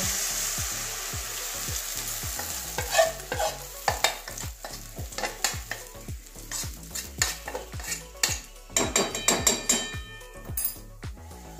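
Soaked dhoka lentil cakes go into a pan over low heat for a Bengali dhokar dalna, giving a steady close sizzle with repeated scraping and clinking of a spatula stirring throughout.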